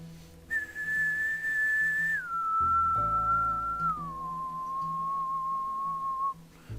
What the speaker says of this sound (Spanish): vamos a silbar para que veas la modificación de la PSD